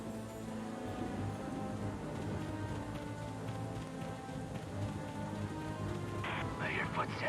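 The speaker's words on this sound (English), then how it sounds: "The rain's not helping." Steady rain pours down in the Valkyria Chronicles 4 game during a stormy patrol mission, a dense continuous hiss with faint low rumbles, while voices talk over it throughout.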